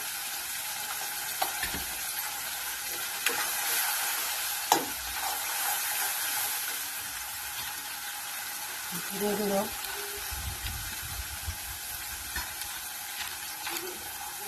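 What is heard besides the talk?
frying spice paste with turmeric and salt in oil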